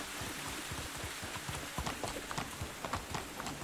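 Horse hooves clip-clop steadily in first-person riding in the medieval survival game Medieval Dynasty, a quick irregular run of close, light knocks over a faint rain-like hiss, with no talking.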